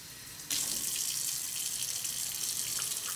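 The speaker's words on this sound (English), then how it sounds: "And last but not least, 1/2 cup of water." Tap water pours into a half-cup measuring cup for vegan tortilla dough, a steady hissing stream starting abruptly after a brief quiet moment and running on evenly.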